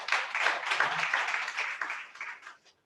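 An audience at a Nigerian environmental policy project event gives a round of applause, a moderate patter of clapping that swells briefly and then thins out and fades toward the end.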